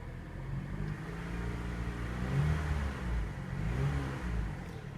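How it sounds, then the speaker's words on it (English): A Chevrolet Cavalier's 4-cylinder engine runs close by with a steady low rumble and slight swells in revs, no voices over it. "It's a typical Chevrolet 4-cylinder motor."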